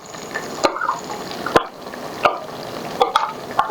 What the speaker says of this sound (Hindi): अब इस स्टेज पे आकर मैं जो टमाटर हैं ये डालना शुरू कर दूंगी।